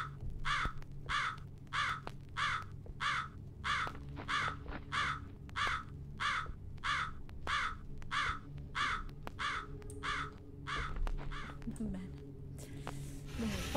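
A crow caws insistently in the Japanese horror game JISATSU, about sixteen evenly spaced harsh caws in a steady rhythm over a low ambient drone, with someone talking quietly underneath.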